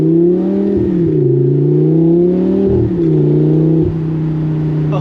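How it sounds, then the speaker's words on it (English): A Lamborghini Gallardo's naturally aspirated V10 with straight pipe exhaust roars loud and close, rising through the revs, dipping briefly at a shift and pulling hard again. "the sound is just such an amazing"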